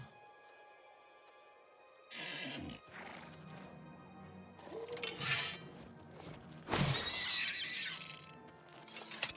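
A horse in the video game Oblivion Remaster whinnies and snorts in a few separate bursts, the loudest one near the end, over a quiet background hum.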